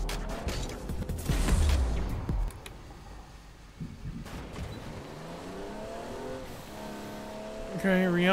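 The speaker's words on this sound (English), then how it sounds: "let's get in the new Rocket League car" Rocket League car in Fortnite revving: a loud engine surge and rumble early on, then lighter mechanical noise with a voice talking over the latter part.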